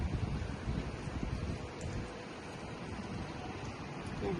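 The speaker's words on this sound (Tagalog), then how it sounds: "Malakas na ulan." Steady, dense heavy rain on a balcony, with strong wind, fills the whole stretch, a constant broadband hiss with no pauses and no voices.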